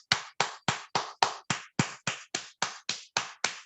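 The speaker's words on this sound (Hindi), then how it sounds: "तालियां बजाएंगे, अपने लिए तालियां बजाएंगे जोर जोर से" A group claps hard and in unison during a laughter yoga session, a dozen sharp, evenly spaced claps ringing out one after another in a steady rhythm.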